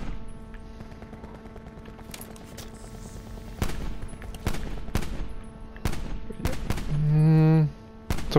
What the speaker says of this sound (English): And they're taking each other out, they're shooting each other.